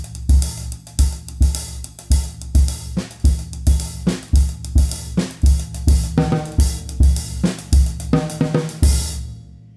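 A drum kit plays a steady calypso beat in cut time, with punchy low kick and tom hits under a constant cymbal wash in an even, driving pattern, loud and close, ending on a cymbal crash.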